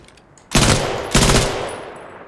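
A PPSh submachine gun fires two loud, rapid bursts in the video game Battalion 1944, each burst a dense rattle that trails off, with no talking.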